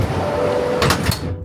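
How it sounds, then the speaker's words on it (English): The sliding doors of a Chevy BrightDrop 400 electric delivery van slide and latch shut automatically when shifted into drive, a short burst of mechanical whirring and clunks, fairly close, over a steady background hum. "both the doors automatically close."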